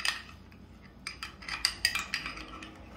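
A spoon scoops butter from a dish, clinking against the utensil and bowl in a short run of crisp metallic taps that grow closer and more frequent, then fade.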